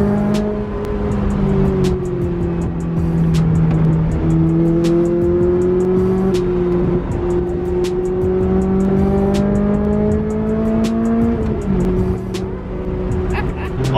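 A Lotus Evora sports car is driven hard along a narrow B-road, with a steady, loud engine drone rising and falling in pitch as it revs, heard from inside the car throughout.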